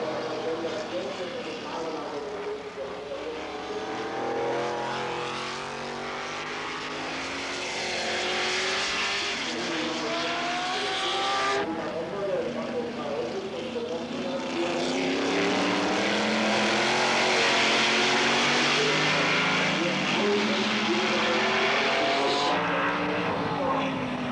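Classic race cars, including a Ferrari 250GT SWB and a Jaguar E-Type, roar past at close range with engines rising and falling in pitch, loud and continuous as they sweep by on the circuit.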